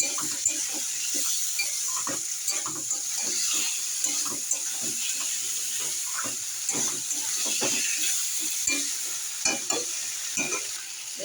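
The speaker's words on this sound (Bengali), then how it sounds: "এবারে আমি মশলাটা দিয়ে দেবো এর মধ্যে ভালো করে কষিয়ে নেব" Spices for shukto, a Bengali mixed-vegetable dish, sautéed in a pan, with steady sizzling under repeated scraping stirs of a spoon against the metal, close and continuous with no talk.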